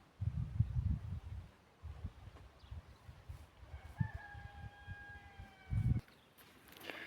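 Chickens on a rural farm cluck in short bursts, near and fairly quiet, with a brief drawn-out crow-like call in the middle and some shuffling between clucks.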